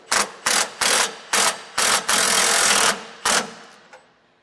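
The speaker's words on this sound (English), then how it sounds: "Now we'll just come back through and snug all the hardware for that bracket down." A ratchet snugs 5/8 and 11/16 bracket bolts on a front anti-sway bar install. It gives a close, loud series of quick clicking bursts, then one longer run of clicks and a final short burst.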